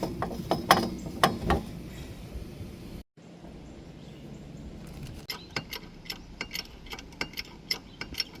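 A wrench ratchets a nut tight on a worn truck shock, giving quick metallic clicking bursts, a brief pause, then a steady run of sharp ratchet clicks, close and fairly quiet.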